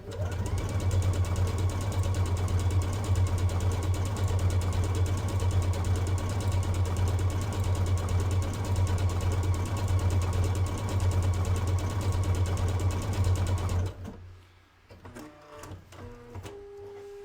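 A brand new sewing machine stitches in a fast, steady mechanical rattle with a strong low hum, running continuously and close for about fourteen seconds before stopping, leaving faint handling noises.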